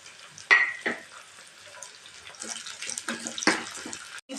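Onions and tomatoes sauté in a pan for paruppu saadham, a soft steady sizzle broken by a few sharp clicks of a spoon against the pan and quieter scraping strokes.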